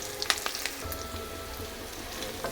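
Capsicum pieces fry in a hot pan with a steady soft sizzle, broken by a few light clinks and scrapes of stirring, moderately quiet and close.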